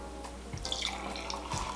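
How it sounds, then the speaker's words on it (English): Hot cocoa pours and splashes briefly into a cup, a short trickling gurgle over faint background hiss. "Pour the drink. hot cocoa in"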